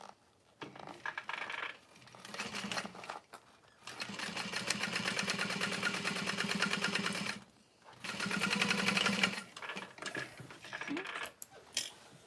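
A sewing machine stitches a small snow drop bag in two long runs of fast, even whirring, each with short pauses and faint clicks between, close and alone.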